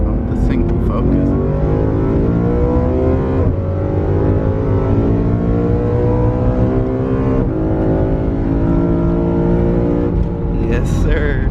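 A BMW E92 M3 with a carbon fiber plenum roars loud and close from inside the car, revving hard with a sharp downshift and rising engine pitch throughout, while occupants talk over it.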